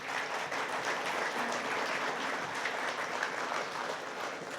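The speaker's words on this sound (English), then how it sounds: "Let's give them an applause," Steady, continuous applause from a crowd, loud and sustained throughout with no pauses.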